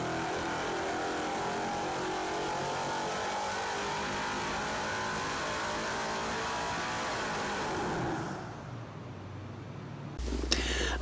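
A turbocharged 4.8 liter LS V8 with forged pistons and a mild torque cam runs under boost, a loud sustained engine drone for about eight seconds before it fades, followed by a short mechanical noise.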